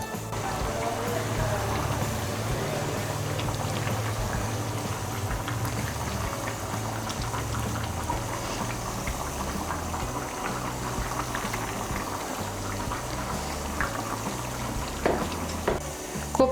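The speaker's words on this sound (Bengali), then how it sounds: "এখন আঁচটাকে মিডিয়াম করে 10 মিনিটের জন্য ঢেকে দেব আলুগুলো সেদ্ধ হওয়ার জন্য" Potatoes simmer in a covered pot of red lentil curry over medium heat, a steady close bubbling and gurgling that continues without a break.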